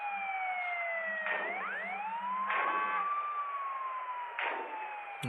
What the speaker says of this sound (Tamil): ஆம்புலன்ஸ் நின்றுக்கிட்டு இருக்குது